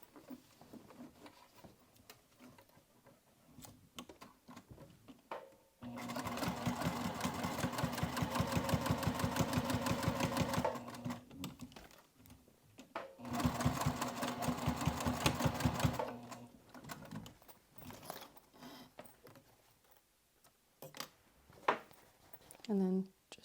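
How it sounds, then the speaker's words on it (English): A sewing machine stitches along a fabric edge for a dual zip crossbody bag, running in two loud, fast, steady bursts with a brief pause between them, bracketed by quiet handling noises. "Just going to drop my needle down, pivot as I sew off the edge."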